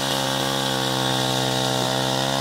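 A chainsaw rips lengthwise through wooden boards, cutting formwork planks from a family's timber; a loud, steady, close engine drone with a strong harmonic whine runs unbroken throughout, with no voices.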